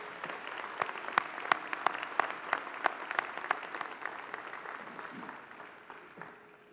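Applause from the audience at a Fitchburg State University graduate commencement, a fairly soft, distant patter of many hands with sharper individual claps standing out, tapering off toward the end.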